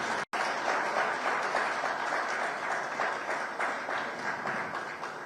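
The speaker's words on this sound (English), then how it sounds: "Round of applause for Mr." Steady audience applause at a stakeholder event in Asaba, a dense, continuous wash of clapping from a crowd after a brief dropout at the start, holding fairly even throughout.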